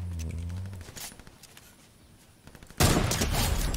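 Gunshots in a video game: a few scattered sharp reports, then a loud dense burst of rapid fire near the end, close and harsh.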